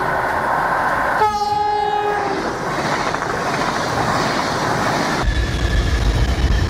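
An Amtrak train sounds its horn in a loud, sustained chord of several stacked tones over the steady rumble of the passing train, and the roar continues after the horn stops.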